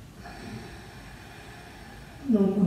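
Slow ujjayi breathing during a yoga flow, a soft, steady, airy rush of breath close to the ear that ends in a louder, throaty exhale.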